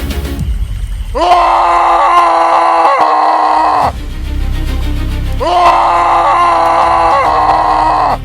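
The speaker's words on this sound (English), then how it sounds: "What is this, a scream?" A loud, sustained scream rings out in an audio drama about a cursed ship on the night of a comet, two long harmonic wails separated by a brief rumbling pause.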